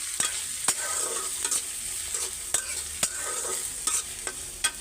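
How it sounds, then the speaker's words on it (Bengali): Bottle gourd greens fry in hot oil with a steady sizzle while a utensil stirs and scrapes the pan in sharp, irregular clinks, heard close up. "তো এই যে তেল গরম হয়ে গেছে, তো শাকটা ভাইজা নেই।"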